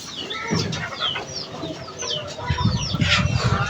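Hens and chickens cluck repeatedly and close by as they are fed bran and grain at mealtime, with a few sharper calls rising over a busy, overlapping flock.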